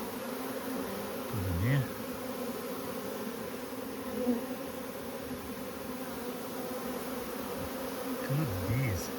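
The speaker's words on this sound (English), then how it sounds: "it's extremely hard to find the queen in this bunch of bees" A swarm of bees gathered on a branch gives off a steady, low, droning buzz throughout, with a few brief louder passes nearby and a person speaking briefly over it.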